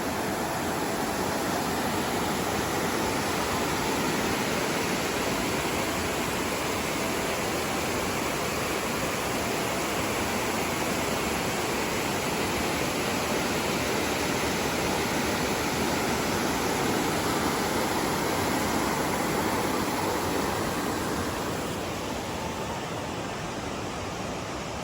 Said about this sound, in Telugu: ఇప్పుడే చూసారు కదా ఇక్కడ వాటర్ ఎలా వస్తున్నాయి అనేది